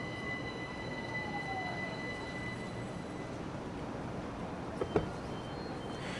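A Class 375 Electrostar electric multiple unit in a train simulator game runs with a steady low rumble and faint whining motor tones, a rising squeal in the middle and a couple of sharp clanks near the end, with no talking.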